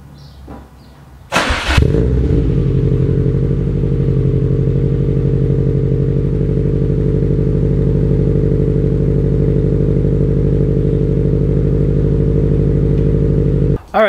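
A built 400hp 2004 Subaru WRX STI with a Borla header cranks and starts after a brief quiet moment, then holds a loud, steady, lumpy idle close by for about twelve seconds before cutting off.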